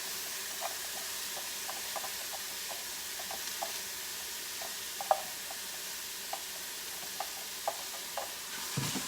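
Diced peppers and onions being stirred in a quick cooker, a steady low sizzle and hiss with small scraping clicks and taps from the spoon scattered throughout, close and fairly quiet, with no talking.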